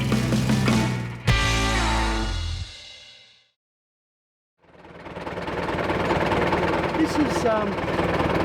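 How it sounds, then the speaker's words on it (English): A rough, rattling truck engine with a failing, makeshift-repaired exhaust roars loudly, cuts out to near silence for about a second, then rumbles back up with a ragged, uneven exhaust note. "From the sounds of it, my bush fix is no good and this exhaust is expired"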